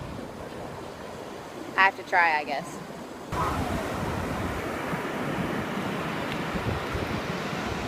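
Ocean waves break on a beach in Savannah, Georgia, a broad, loud surf wash mixed with wind buffeting the microphone. A person speaks briefly early on, and the surf then grows louder and continuous.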